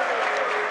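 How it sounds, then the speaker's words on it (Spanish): Huracán fans applauding at a basketball game, a short burst of dense, steady crowd clapping. "Se ganan los aplausos la gente de Huracán"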